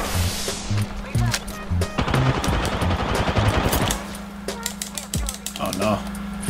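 Rapid bursts of automatic weapon fire in the game Apex Legends, loud and choppy, stopping and starting in quick volleys with gaps, while a player's voice is faintly audible.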